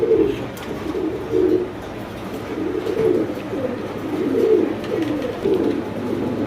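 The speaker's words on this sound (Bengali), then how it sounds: "অনেক চমৎকার একটা কবুতর" Fancy pigeons coo in a steady string of soft, low, rolling calls, close by and with no one talking over them.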